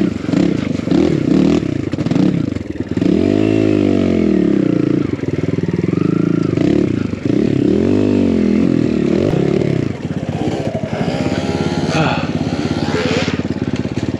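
A built Kawasaki KLX140 dirt bike engine roars and revs hard over an enduro log jump, loud and close throughout, with rising and falling pitch sweeps and clattering, while a rider's voice talks over it.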